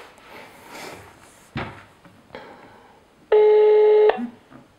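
Someone dials a telephone: a few short clicks and button presses, then a loud, steady, close dial or keypad tone lasting under a second, followed by quieter handling noises.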